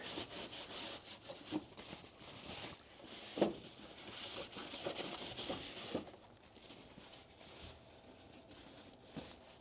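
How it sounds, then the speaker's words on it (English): A cloth wipes around the lid of a Ninja Foodi air fryer grill in soft, uneven rubbing strokes, faint and close, with a few small knocks and no voices. "Wipe around the lip, wipe around the underside of the lid."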